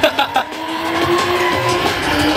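A BMW M3 drift car at a Latvian drift series event, engine droning loudly at high revs with tires squealing and skidding, sustained and close, under a faint voice.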